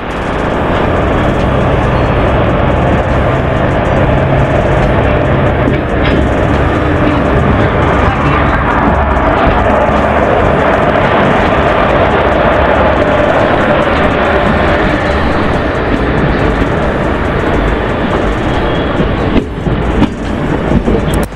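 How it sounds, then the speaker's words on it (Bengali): Train pulling into New Cooch Behar station, a loud, continuous rolling rumble that holds steady for about twenty seconds. "ট্রেন কিন্তু নির্ধারিত সময়ে প্রবেশ করেছে"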